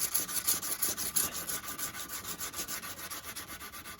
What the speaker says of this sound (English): I'll start polishing that edge